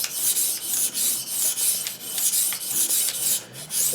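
A Newfoundland skinning knife is sharpened by hand, the blade rasping across a stone in steady rhythmic strokes, roughly two per second, close and crisp with no voices.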